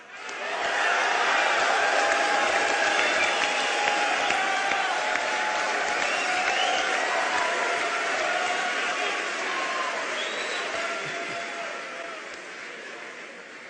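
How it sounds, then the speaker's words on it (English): Sustained audience applause and crowd noise in the Wiltern Theater during an Xbox 360 presentation, a dense, loud wash of clapping and cheering that slowly tapers toward the end. "it was probably hard to hear with all the applause from the audience"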